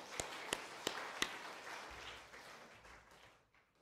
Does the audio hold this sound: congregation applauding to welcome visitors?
yes